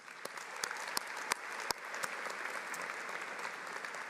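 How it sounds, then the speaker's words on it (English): A commencement ceremony audience applauds steadily, with a few sharp, louder individual claps standing out near the start before the clapping settles into an even, continuous roar. No voices are heard. "Please join me as we applaud their support of and dedication to the success of our students"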